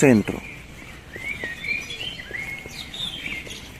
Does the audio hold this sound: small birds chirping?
yes